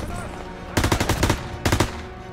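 Two short rapid bursts of machine gun fire ring out in the Call of Duty WWII battle, loud and close, with a low hum of background noise between the bursts.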